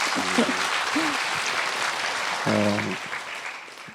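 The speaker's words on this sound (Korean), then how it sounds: "박수 한번 보내주세요" An audience applauds at a Buddhist monk's book concert in Korea, with dense, sustained clapping throughout and short vocal sounds rising over it.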